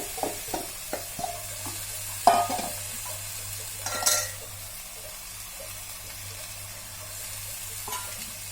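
Potato pieces and spice-stuffed okra chunks go into a pan, with a steady sizzle of frying, a few thuds and stirring scrapes as they land, and the hiss continuing alone afterward.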